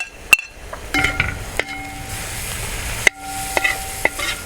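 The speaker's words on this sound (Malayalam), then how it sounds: "നമ്മൾ കുറച്ച് ഇഞ്ചിയും വെളുത്തുള്ളിയും കൂടി ചതച്ചെടുത്തിട്ടുണ്ട്, അത് നമുക്കിതിലേക്ക് ഇട്ട" Crushed ginger and garlic frying in a pan for a Kerala-style duck roast, a soft steady sizzle broken by several sharp clinks and scrapes of a spoon against the pan.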